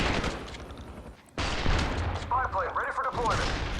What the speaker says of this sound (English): I fired the second shot before he died.